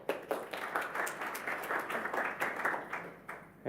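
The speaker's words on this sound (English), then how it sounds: "I like getting clapped every time I stand up" Audience applause in a lecture hall at a heart health talk, steady dense clapping from a crowd, fairly close and sustained throughout, with no speech over it.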